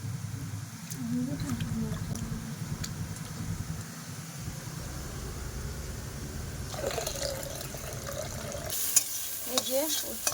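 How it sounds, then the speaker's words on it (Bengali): Quiet frying sizzle of moong dal in a little oil in a wok, with occasional stirring scrapes and light clinks, a low background hum underneath, no clear talk. "কড়াইতে সামান্য তেল দিয়েছে এখন এই ডালটা ভেজে নেব"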